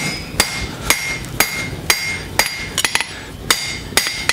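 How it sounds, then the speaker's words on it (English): Hammer forging a copper bar on the edge of an anvil, sharp metallic strikes landing in a steady rhythm about every half second, with a few quick double hits, close and loud with no talk. "you could fuller it this way. But if you don't have anything like that, use the edge of the anvil"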